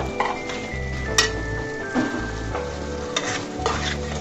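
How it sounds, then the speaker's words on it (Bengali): A spoon scrapes and stirs a peas curry in a pan, with a few sharp clinks over a steady sizzle of frying. "এইভাবে সুন্দর করে নেড়ে চেড়ে আমি আরো ঢাকনা দিয়ে 2-3 মিনিট মতো রান্না করে নেব"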